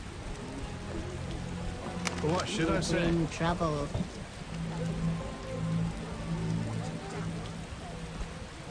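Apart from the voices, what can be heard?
rain in The Witcher video game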